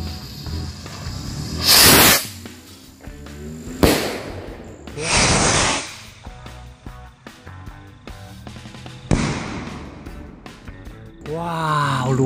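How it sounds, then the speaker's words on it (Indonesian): King Jumbo rocket fireworks launched one after another: several sharp whooshing hisses, each followed by bangs and crackling. There are pauses between launches, and a rising whistle comes at the end. "Yang selanjutnya kita nyalain mercon roket king jumbo."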